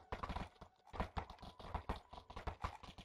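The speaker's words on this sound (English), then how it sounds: "We need to keep these horses in check with this armor and cuts." Horses' hooves clip-clop in a steady, rhythmic patter of sharp hoof strikes, close and fairly quiet, with no talking.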